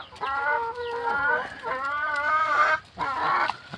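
Laying hens on a small Thai home farm cluck and squawk repeatedly in close, loud bursts with short pauses between calls.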